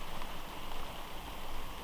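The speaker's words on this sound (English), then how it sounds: "The rain continues." Autumn rain in woodland hisses as a steady, broadband wash, close and even, with no voices over it.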